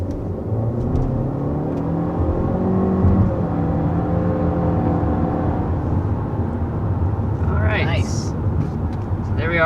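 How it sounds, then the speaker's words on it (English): A 2022 Honda Civic with a turbocharged 4-cylinder accelerates to about 60 mph, its engine note rising steadily under continuous road and wind noise, with a voice talking over it throughout. "accelerating up to about 60 miles per hour with this all-new generation of the Civic"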